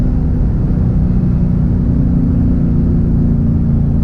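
A factory supercharged Ford car pulls hard under acceleration, its engine a steady, loud low rumble and drone that holds constant with no talk over it.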